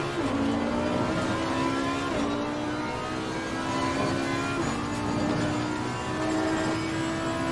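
Audi R8 LMS GT3 race car engine in Assetto Corsa Competizione at Silverstone, loud and close, revving hard through repeated gear upshifts with a steady climbing drone and brief dips at each shift, no talking.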